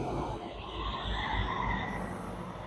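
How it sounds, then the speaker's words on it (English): A loud bus rumbles past outdoors at Gettysburg, a steady heavy roar of engine and road noise holding throughout with no voices. "That was a loud bus."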